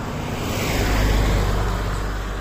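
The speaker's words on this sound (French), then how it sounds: "je vais laisser passer la voiture." A car passes along a nearby road outdoors, a broad rushing swell that peaks at mid-clip over steady wind-like roar, then eases off; no one speaks.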